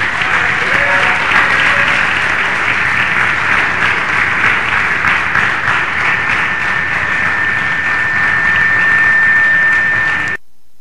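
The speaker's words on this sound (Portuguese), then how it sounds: "aplauda Ele que Ele merece" A church congregation breaks into sustained, loud applause, a dense continuous wash of clapping hands that holds steady for about ten seconds before cutting off abruptly.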